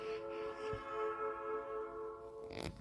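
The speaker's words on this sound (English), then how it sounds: "That's the sound of the whistle of the Southern Railway on the return trip" A Southern Railway train whistle sounds one sustained, slightly wavering tone at a distance, fading before a brief rumble at the end, with no voices.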